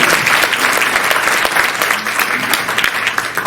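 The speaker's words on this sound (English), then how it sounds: "Please, a round of applause." Audience applause at an Indian Consulate event in New York for International Yoga Day, a loud, continuous patter of many hands clapping from a crowd, steady for a few seconds.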